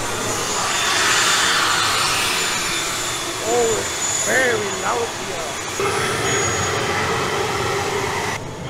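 Loud, steady engine roar fills a small propeller plane's cabin, with a brief voice speaking over the constant drone.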